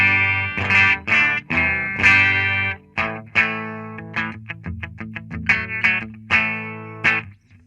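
SG-type electric guitar played clean through a Marshall DSL 40c valve combo amp with reverb, bright strummed chords and quick single-note picks ringing loud and close, alone without talk.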